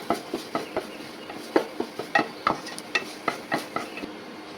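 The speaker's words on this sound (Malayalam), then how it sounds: "ഇനി നമുക്ക് അതൊന്ന് നന്നായിട്ട് കളർ മാറുന്നത് വരെ വഴറ്റാം." Onions sautéing with ginger-garlic paste in a pan for a North Indian-style vegetable dish, soft sizzling beneath a regular rhythm of a dozen or so spoon strokes and scrapes, fairly close and moderately quiet.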